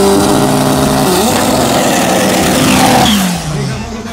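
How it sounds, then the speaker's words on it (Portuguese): A VW Gol 4x4 drag car at a drag racing event does a burnout, its engine loud and close with sustained revving and pitch sweeps, then easing off toward the end. A commentator may be faintly audible underneath. "burnout feito, limpeza dos pneus"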